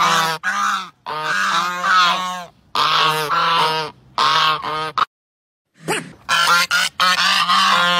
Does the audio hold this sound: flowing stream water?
no